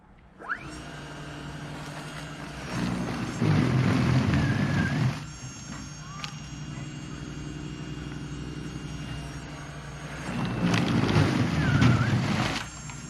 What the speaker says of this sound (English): So let's see how this machine does on compacted snow.